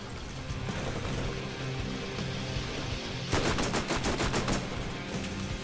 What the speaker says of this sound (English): Oh, it is a turret hitting me now.